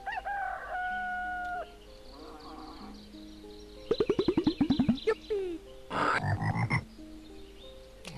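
Croaking from a toad in the adventure game Gobliins 2, a run of rapid stacked croaks mixed with other cartoonish effects, crowing-like calls and a steady game tone, loud and close with no talk.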